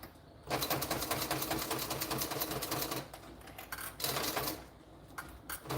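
A sewing machine rattles rapidly in fast bursts, stopping and starting a few times, close and fairly loud.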